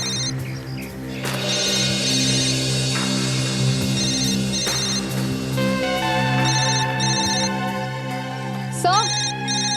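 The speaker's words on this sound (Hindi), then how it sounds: "सर ये देखिए सर, डॉक्टर सोनाली का मोबाइल फोन" A mobile phone rings steadily and loudly with a repeating electronic ringtone melody in a jungle, while voices call out over it.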